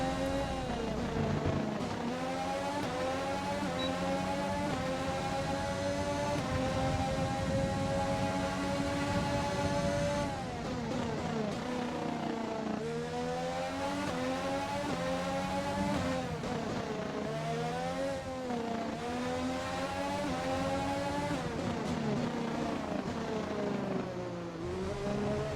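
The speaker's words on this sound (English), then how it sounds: "I'm sure this sounds extremely identical to how real F1 cars sound" F1 car engines in F1 2020 scream through long rising and falling pitch sweeps as gears shift, steady and loud across the whole stretch with brief dips where the cars lift off.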